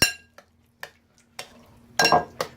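Yogurt and cucumber dressing being stirred in a bowl: a handful of spaced clinks and scrapes of a utensil against the bowl, close and crisp, with brief quiet gaps between strokes.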